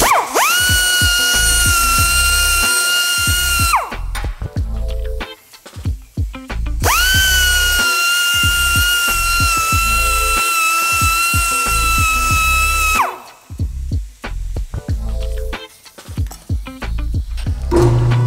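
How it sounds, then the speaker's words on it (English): An air-powered deburring tool whirs against the inside of a stainless steel tube being prepared for TIG welding, in two long steady high-pitched runs with short clattering pauses and handling noise between them, loud and close with no talk. "grab a deburr tool, either a manual one or air one. Just take a nice little deburr off the inside."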